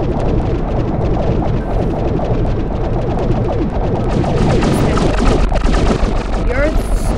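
Spaceships in the Solar Smash game firing on a planet: a dense, loud, continuous barrage of rapid gunfire and explosive blasts that runs without a break throughout.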